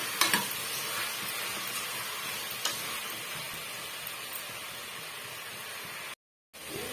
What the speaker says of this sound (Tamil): இது போல் வதக்கி விட்டுக்குங்க இந்த காய் வந்து ஓரளவுக்கு நல்லா வெந்து வரணும்